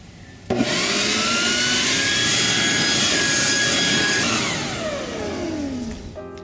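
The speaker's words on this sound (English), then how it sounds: "can you pass me your new leaf blower?" A new leaf blower starts abruptly and roars with a loud, whining jet-like blast, holding steady, then easing down toward the end.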